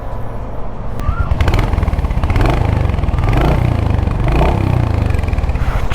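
A new 2025 Royal Enfield Hunter 350 motorcycle ridden away from a showroom, its engine giving a close, steady low thumping drone that holds throughout with a slight rise in intensity.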